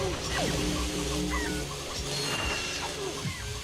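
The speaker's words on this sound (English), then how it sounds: "Why are you sneering at the chickens all of a sudden, Ratchet? They're only just chickens." Chickens cluck in Ratchet & Clank, enemies morphed into fowl, their clucks mixed into a busy bed of game music and effects that runs steadily for a few seconds.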